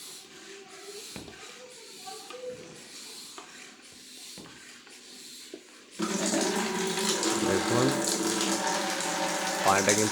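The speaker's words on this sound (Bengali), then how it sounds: "পানিটা কিন্তু বের হচ্ছে, ওখানে পানির ফ্লোটা বের হচ্ছে।" Water gushes out of a pipe driven by a pressure pump, a sudden loud rushing flow that starts partway through after quieter clicks and handling sounds, with a brief spoken word early on.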